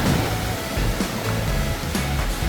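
Ocean waves surge and wash continuously nearby at Stradbroke Island, Australia, a broad rushing roar with rhythmic low swells and no voices.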